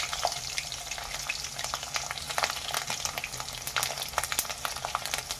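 Mustard seeds, cumin and crushed garlic fry in hot oil in a pan for a drumstick side dish, a steady, moderately loud sizzle with scattered crackles and pops throughout.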